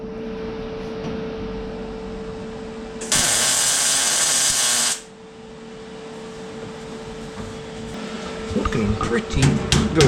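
A flap disc grinds a weld on steel in one steady high-pitched burst of about two seconds in the middle, set between a constant low motor hum and light clattering handling noises.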